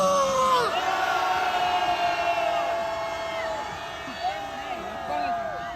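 A large crowd at an anti-impeachment rally in front of South Korea's anti-corruption investigation office lets out a long, sustained roaring shout with cheers and whoops, fading slightly toward the end.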